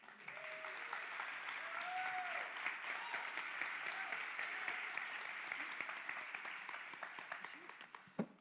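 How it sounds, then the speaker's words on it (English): A church audience gives sustained, even applause as a pastor's wife comes onstage, a dense wash of many hands clapping across the whole stretch, with faint voices rising briefly underneath before a sharp final clap. "I never get that kind of applause, babe"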